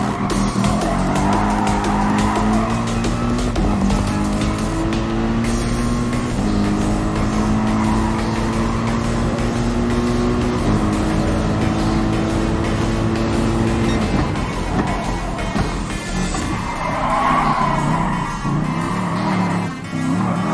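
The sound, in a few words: race cars driving on track in Gran Turismo Sport video game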